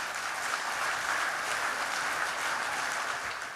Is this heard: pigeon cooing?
no